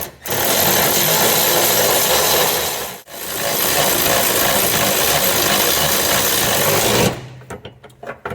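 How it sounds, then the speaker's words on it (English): A power ratchet runs on bolts of a carrier bearing skid plate, a loud steady mechanical whir held for several seconds, briefly cut off, then resumed before stopping into a few clicks. "I wanted to make sure that I got it to start before I hauled off and threw the power ratchet on it."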